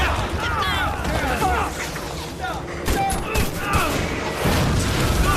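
Gunfire rattles through an action-film battle scene in dense, overlapping bursts. It is mixed with booms and a busy soundtrack, and a narrator talks over it.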